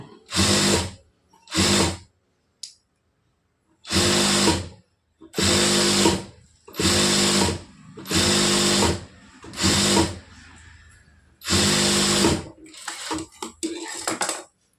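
A sewing machine hems the folded edge of a blouse in about eight short, loud, clattering bursts, separated by brief silences.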